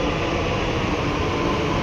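A metro train arriving at a station on the route to Rajiv Chowk gives a continuous, fairly loud rumbling hum with no distinct peaks.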